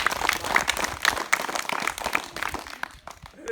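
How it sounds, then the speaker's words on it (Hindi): Schoolchildren clapping in a classroom at a village school in Maulana Mafi, Azamgarh, a lively burst of many small hands close by, uneven and tapering toward the end. "आप लोग ताली बजा दो जरा।"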